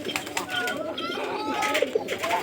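Pigeons in a loft coo softly in short repeated phrases, close by, mixed with someone talking and light background rustle.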